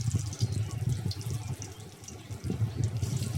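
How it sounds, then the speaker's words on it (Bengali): Soybean pakoras are dropped one by one into hot oil, setting off a dense, close, bubbling sizzle that crackles and surges unevenly throughout. No voices. "এবার ওখান থেকে নিয়ে আমি পকোড়ার আকারে এগুলোকে তেলের মধ্যে ছেড়ে দেব"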